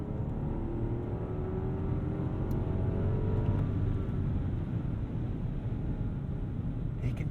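A 2022 Rolls-Royce Cullinan with a twin-turbo V12 accelerating hard in low drive mode, a steady, muted engine rumble and rising whir heard from inside the cabin, smooth and continuous with no talking.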